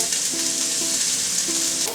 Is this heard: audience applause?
no